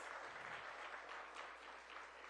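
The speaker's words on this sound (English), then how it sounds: "that deserves a round of applause" Audience applause at a Cherry Blossom Festival event, a continuous patter of many hands clapping, faint and distant, sustained throughout with a steady high hiss in the background.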